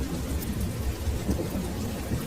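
A thunderstorm with heavy rain at night serves as a story sound effect: a dense, continuous roar of rainfall with low rumbling thunder, loud and unbroken with no voices.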